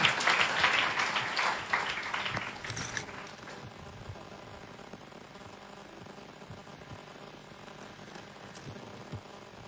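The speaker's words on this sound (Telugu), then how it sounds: "అందరం చప్పట్లు కొడదాం." A church congregation claps together in welcome, a loud burst of dense applause for the first few seconds that quickly fades into a quiet room with faint scattered sounds.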